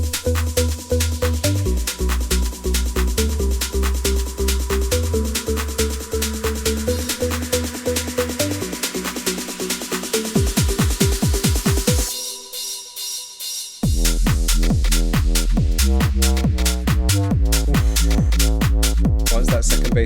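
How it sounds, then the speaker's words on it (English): An electronic beat builds with rising energy, briefly drops out to near silence, then slams back in with a loud, heavy bass-driven drop. "builds up the track until we get into the heavy drop"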